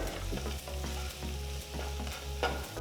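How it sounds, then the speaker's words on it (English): Chopped onion and slit green chilies sautéing in a pan while being stirred, a steady close sizzle broken by repeated scraping strokes of the spoon. "Next add 6 green chilies slit. You can adjust the quantity of the green chilies according to your taste. Saute it all together."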